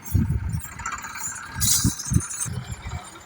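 Tractors haul a trailer loaded with maize fodder through a village, two pulling in front and two pushing behind; close engine rumble comes in uneven low pulses with metallic rattling and clatter, with no talk.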